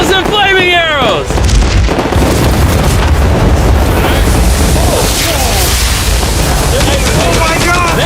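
Flaming arrows and fireworks striking a yacht in a Bloons tower defense video game: repeated loud booms and bursts amid whooshing and whistling effects, with excited voices shouting over the clamour.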